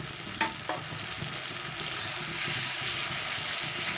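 A large tomato frying with already browned onions in a pan, steady sizzling with stirring scrapes and a couple of sharp clinks near the start, no speech.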